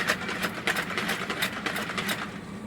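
Electric hand-mixer beaters whisk a yeast mixture for scones, giving off a close, steady motor buzz with quick rhythmic pulsing as the beaters churn the liquid.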